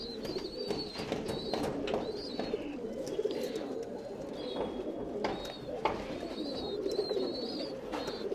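Tumbler pigeons cooing inside a loft, including a large old male bird, give soft, repeated low coos that overlap throughout, with occasional higher chirps above a busy murmur of many birds close by.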